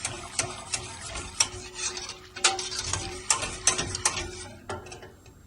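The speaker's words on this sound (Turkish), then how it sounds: "Nişastayı da karıştırıyorum arkadaşlar." Starch being stirred into a mixture for mock profiteroles gives irregular scraping clicks and knocks of a utensil against the bowl, close and fairly loud, coming in quick uneven bursts with no speech.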